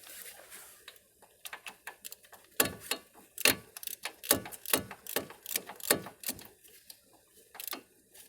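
A ratchet clicks in quick bursts while hub bearing bolts are tightened one after another, the sharp metallic ticks loud and close with brief pauses between strokes.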